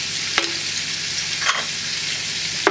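Green cardamom pods sizzle in melted butter in a pot, a steady soft frying hiss broken by a few light clicks as they are stirred.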